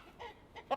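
Bielefelder roosters, a rare chicken breed, give a few faint, short clucking calls, the last one slightly louder, with no talk.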